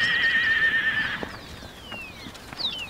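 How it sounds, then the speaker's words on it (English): A loud, shrill whinny from a wild Australian brumby horse with a falling pitch, followed by fainter neighs, heard over a soft background rumble. "But you are a horse, the wild horse of Australia."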